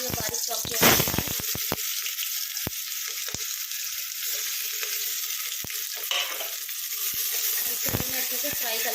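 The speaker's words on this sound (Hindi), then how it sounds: "और इसके बाद मैं डालूंगी ये बारीक चॉप किया हुआ प्याज।" Finely chopped onion hits hot oil with bay leaf, cloves, black peppercorns and a piece of cinnamon for a black chickpea curry, giving a loud, steady sizzle punctuated by sharp spoon clicks and scrapes.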